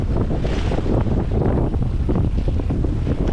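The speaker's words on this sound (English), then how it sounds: "the wind really started picking up" Strong wind buffets a Pacific Seacraft 37 sailboat in Pensacola Bay, a constant heavy roar with gusty surges and water rushing beneath, loud and close.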